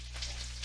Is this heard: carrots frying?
yes